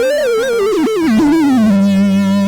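A warbling synth tone from a Gamechanger Audio Motor Synth pedal, produced by spinning motors, swoops and wobbles downward, then settles into a steady, buzzy low drone.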